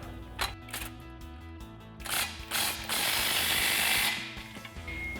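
A ratchet with a 15mm socket tightening an exhaust clamp on a 2021-2026 Ford Bronco Magnaflow cat-back system, giving close, loud clicking bursts and a longer run of rapid ratcheting near the end, with no voice.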